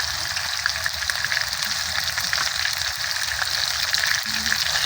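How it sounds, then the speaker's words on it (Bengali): Onion, garlic, cumin and chili pastes frying in oil for a duck and new potato curry, a continuous loud hissing sizzle close up with faint stirring underneath, no talking. "সকল মশলা এখন ভালোভাবে ভেজে নিতে হবে।"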